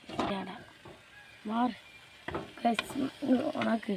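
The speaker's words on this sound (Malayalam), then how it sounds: "നമുക്ക് നമ്മളെ മക്രോണി ചേർക്കാം" Macaroni tipped into a pan with tomato sauce and soy sauce and stirred, giving soft sizzling and scraping strokes in bursts, with a voice talking over parts of it.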